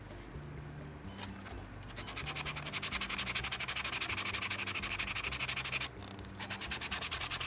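Sponge scrubbing sticky residue off a surface: steady rapid back-and-forth rubbing strokes, close and moderately loud, continuing without pause with a brief dip near the end.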